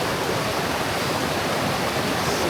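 Clear water pours down a waterfall in cold winter weather, a steady, dense broadband rush that holds constant throughout, close and loud with no voices.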